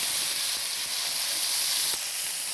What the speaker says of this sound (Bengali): আমাদের তেল হয়ে গেছে, তেলের মধ্যে আমরা পেঁয়াজ দিয়ে দিয়েছি